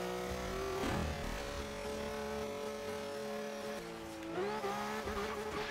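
Car in the Forza Horizon 3 racing game, its engine roaring steadily with tire squeal rising and shifting as it slides, loud and continuous without talk.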